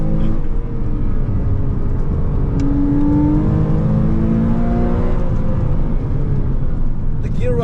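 A Porsche 987.2 Cayman S at full throttle on a B road sweeps up through the revs in a loud, rising engine howl from inside the car, with brief shifts and some talking faintly mixed in.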